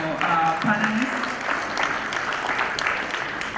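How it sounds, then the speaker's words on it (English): At a climate change forum plenary session, the audience applauds the panelists: moderate, continuous clapping from a hall crowd, with brief voices near the start. "Please, another round of applause for our panelists."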